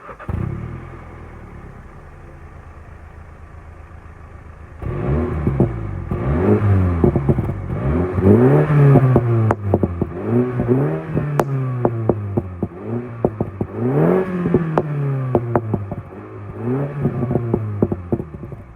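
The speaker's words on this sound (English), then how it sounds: "we'll give it a start up. I'll give it a couple revs and you can let me know what you think of it." A 2016 Mini Cooper S with the JCW package on its standard exhaust starts up and settles into idle, then gets a series of sharp revs that climb and fall repeatedly, loud and close, with no talking.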